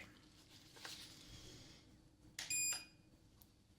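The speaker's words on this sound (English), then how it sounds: "the beep sounds a little different, and it's gonna be further away" A hearing-test beep during an ear exam, a thin high tone sounding briefly and faintly over soft rustling and handling noise, close and quiet.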